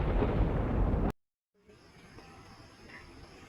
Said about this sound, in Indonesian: Kilat menyambar disertai bunyi gemuruh yang menggelegar.